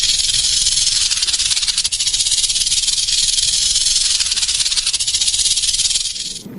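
A snake hisses loudly and steadily for about six seconds, a continuous breathy rush that trails off at the end, with no other sounds.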